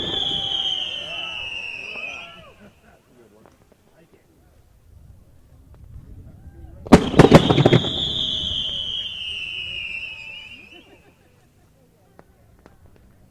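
Firework mines go off in a display, with whistling rising shells followed by a burst of sharp crackling bangs, and a voice talks over parts of it.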